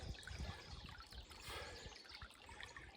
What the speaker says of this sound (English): Got the sluice box set up. Looks like we got a decent flow.